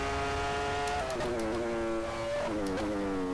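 Formula 1 cars roar in the rFactor racing game at the 1999 San Marino Grand Prix, with high, steady engine whine shifting pitch as cars pass and change gear, loud and continuous.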